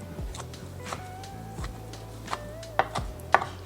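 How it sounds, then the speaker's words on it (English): A knife chops bacon into tiny pieces on a board, a series of soft, fairly quiet taps in an uneven rhythm over a low background hum. "we're going to chop our bacon into small pieces, like little tiny bacon bits"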